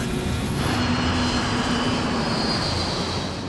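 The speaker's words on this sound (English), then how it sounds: "The sound at first was just a normal airplane flying above." Airplane flying overhead above houses in Queens, New York, a loud, continuous engine roar with a rushing broadband wash and a sustained tonal whine, heard alone without voices.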